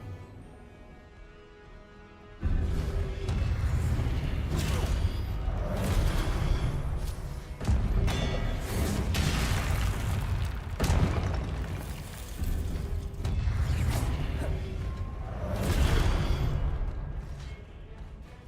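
Magical spell blasts from Hogwarts Legacy combat, Confringo and Incendio among them, burst out as repeated loud booms and whooshing explosions over a dense, sustained battle din after a quieter opening.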